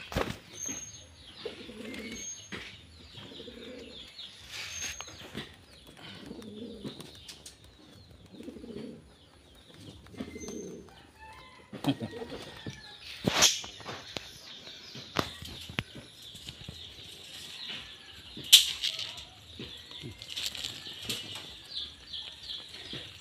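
Kept pigeons close by give repeated low coos in short rhythmic bursts, mixed with sharp wing flaps and a few chirps, fairly near with quiet gaps between.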